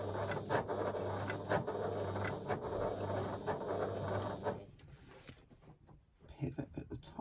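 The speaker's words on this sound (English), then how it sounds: "you're going to stitch around that aperture using an 1/8 of an inch seam allowance. So I'm just dropping my needle in." A sewing machine stitching around an aperture with an eighth-inch seam allowance, a rapid rhythmic mechanical whirr heard close for several seconds before stopping, followed by fainter handling sounds.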